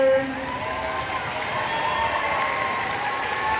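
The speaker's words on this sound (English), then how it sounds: "Round of applause for our honor choir." At a school Christmas program, a crowd applauds the honor choir, a steady roomful of clapping that holds evenly throughout with a faint musical tone fading underneath.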